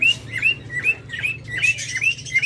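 Caged lovebirds of several colour mutations at a bird sale chirp in a steady run of bright, rising tweets repeating roughly every half second, close and clear over a low background hum.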